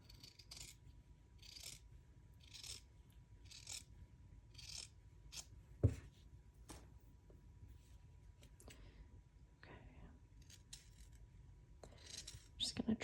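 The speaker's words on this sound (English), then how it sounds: "Gonna trim these down like that." Scissors trimming fabric pieces for a pocket on a kantha-quilted mini journal cover, giving a series of short, close snips and blade scrapes at an irregular pace, with brief handling noises between cuts.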